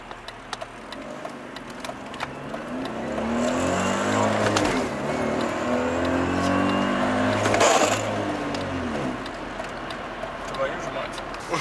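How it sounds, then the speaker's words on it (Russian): A BMW E39 528i with a manual gearbox accelerates hard from standstill on cold, worn tires, its engine droning and rising in pitch for several seconds with a brief dip like a gear change, heard from inside the car. "Приехали на место для замера разгона с 0 до 100."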